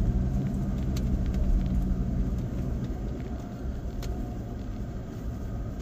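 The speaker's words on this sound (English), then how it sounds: "Now I'll make a downshift for second." A pickup truck engine drones steadily as it downshifts into second gear on a tight mountain road, a low continuous rumble heard from inside the cab with no talking.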